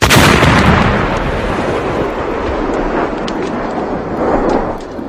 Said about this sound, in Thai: เสียงระเบิดสนั่นขึ้นทางเบื้องล่าง